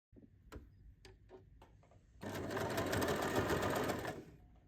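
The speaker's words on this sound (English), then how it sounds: "After the ironing, top stitch it 1 millimeter from the edge." A domestic sewing machine top stitches a fabric strap casing for a fanny pack, starting with a few isolated clicks and taps, then a close, steady two-second run of rapid mechanical whirring before it stops.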